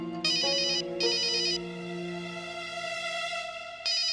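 A telephone rings with a bright electronic trilling ringtone. The bursts repeat over a sustained tonal hum, loud and close, with no voices.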